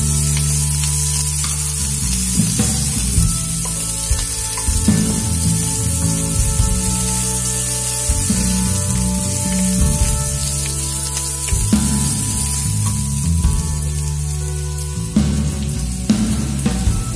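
Green chillies and curry leaves fry with onions in a pan for rice-flake upma, making a loud, continuous close-up sizzle and spatter with occasional stirring scrapes.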